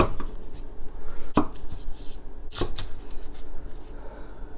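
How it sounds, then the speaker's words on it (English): A knife roughly chops green onion on a cutting board, giving a quick run of sharp, uneven taps up close, with no talk. "Just a rough chop for some interesting texture difference"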